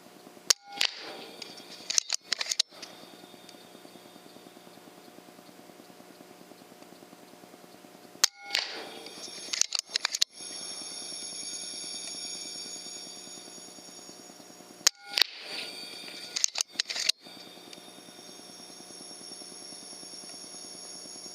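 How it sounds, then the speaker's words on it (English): FX Maverick air rifle firing 22 grain FX hybrid slugs at 50 yards, sharp close cracks in three spaced clusters of a few shots each over a faint background hum. "This is a 5-shot grouping, 50 yards, with the FX hybrid 22 grain slugs at"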